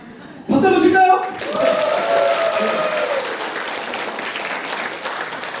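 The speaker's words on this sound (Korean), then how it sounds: "박수 한번 칠까요?" An audience at a Korean smartphone product event breaks into clapping after a short voice at the start, the applause rising to a full steady wash and then holding at a lower, even level with faint chatter.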